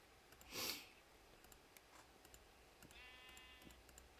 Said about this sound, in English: And I hear a sheep.